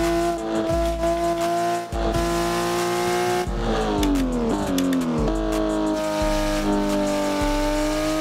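All-wheel-drive Porsche Hoonipigasus race car in the Assetto Corsa racing game screams through repeated upshifts and revs, with tire squeal and skids, loud and continuous with no talk.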